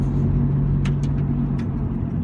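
A Toyota Celica cruises through a town with many speed bumps, heard from inside the cabin as a steady low engine drone with a few faint ticks over it.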